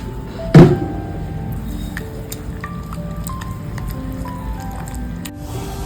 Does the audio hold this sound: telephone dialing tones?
no